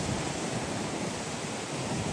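Large ocean waves crash in a continuous, loud roaring wash of surf with no voices over it.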